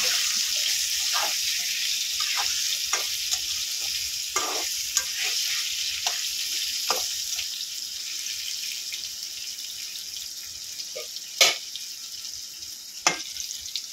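Potatoes fry in hot oil in a Bengali home kitchen, giving a steady, dense sizzle throughout, with stirring scrapes and a couple of sharper clinks of a utensil against the pan near the end.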